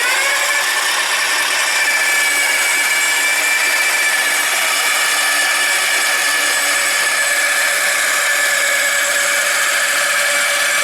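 Motor of a radio-controlled lawn mower cutting grass, a loud, steady high-pitched whir running without a break, close up and alone.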